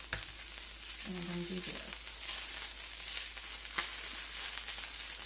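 Stick butter sizzles and fries on a stained griddle, making a steady crackling hiss throughout, with someone briefly speaking over it.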